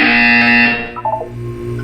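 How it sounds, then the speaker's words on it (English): Loud, harsh electronic buzzer from the Portal video game sounds for just under a second, then fades into a few faint, short tones, with no talking. "You will hear a buzzer."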